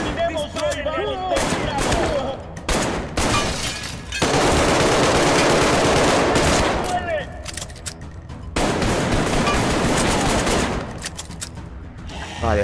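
Rapid gunfire from the Arktika.1 shooter game on PC, with dense, loud bursts of automatic fire and shots that repeat through the clip and break only briefly, with some game sounds mixed in.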